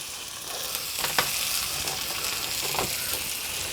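Tournedos steak fries in a pan with a steady, close sizzle, a bright continuous hiss marked by a few faint pops and crackles.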